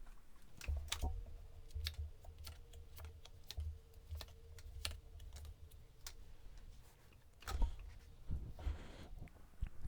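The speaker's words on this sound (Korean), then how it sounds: "제가 카드 뽑아볼게요" Soft crisp clicks and light snaps of tarot cards being drawn and handled, quiet and close, with irregular taps and a short papery swish near the end.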